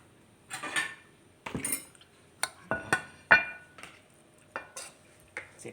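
Plates and utensils clink and clatter as food is served onto a plate, a series of sharp separate knocks and scrapes, close and fairly quiet, with no talking.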